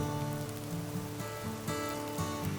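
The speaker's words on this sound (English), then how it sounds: "It's overcast and drizzle." Light drizzle falling outdoors on an overcast deserted island, a soft steady patter of raindrops on surfaces that runs evenly throughout, fairly quiet and close.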